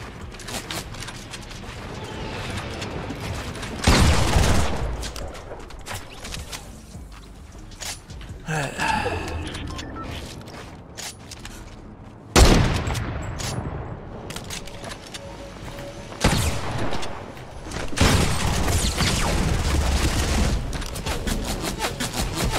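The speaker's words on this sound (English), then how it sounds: "Oh, here we go. It explodes." Explosions and bursts of gunfire in Fortnite Battle Royale hit as several loud blasts spread over the stretch, with rattling fire and quieter gaps between them.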